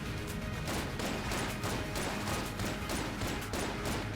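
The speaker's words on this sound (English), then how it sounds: "We do need to keep firing" Rapid gunfire from weapons in Enter the Gungeon, a dense, continuous stream of sharp shots and impacts layered over a busy, crackling background with no pauses.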